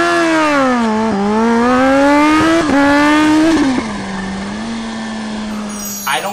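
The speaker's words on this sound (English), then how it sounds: "It's my first attempt at launching a ZH2." A Kawasaki Z H2 motorcycle launches hard from close by, its loud engine note rising in pitch through quick gear shifts, then dropping to a steady lower drone as the bike eases off.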